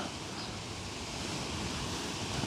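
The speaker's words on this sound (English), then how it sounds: "maybe it's the wind. It's blowing a lot more here." Steady wind gusts over an outdoor tobacco plot, a continuous broadband rush with no clear breaks, fairly constant in level and heard alone.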